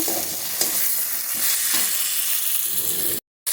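Tomatoes cook down with spices in a pan, a steady close hiss of sizzling with occasional stirring scrapes, running evenly until a sudden cut to silence near the end.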